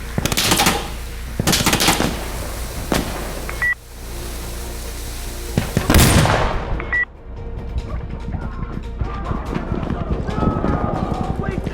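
Gunfire in the military shooter Insurgency Sandstorm: several loud, sharp shots and bursts crack out across the clip amid a busy battle din, with a heavy blast near the middle and continuing clatter afterward.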